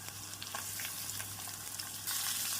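Dried chillies and curry leaves fry in hot oil close by, sizzling and crackling steadily with small pops throughout and a brief rise in hiss near the end.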